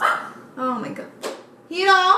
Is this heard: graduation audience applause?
no